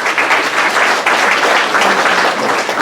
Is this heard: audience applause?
yes